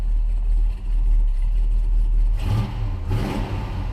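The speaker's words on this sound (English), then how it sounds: "Kind of a lopey idle." A 1966 Chevrolet Impala wagon idles after a cold start with a low, lopey rumble, then the engine briefly swells twice in quick blips near the end.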